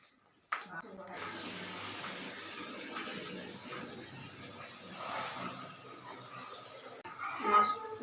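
Small fish being rinsed under a running tap in a home kitchen, a steady broadband rush of water splashing continuously for several seconds, close and fairly loud, with a brief clatter near the end.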